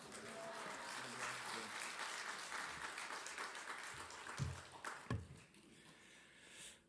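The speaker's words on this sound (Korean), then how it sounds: "박수로 목사님 환영하도록 하겠습니다." A church congregation applauds to welcome its pastor to the pulpit at a spring revival service, a steady roomful of clapping that swells and then fades out near the end.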